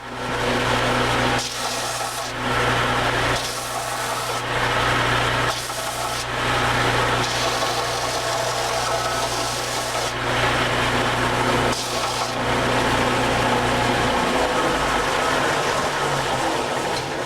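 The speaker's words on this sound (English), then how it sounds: "we're going to grind these rivets down smooth so we don't get cut on them" A power grinder works the metal rivets on a bushcraft knife's wooden handle, making a loud, continuous rasping whine with a steady motor hum and rhythmic surges as the tool is pressed and eased, with no talking.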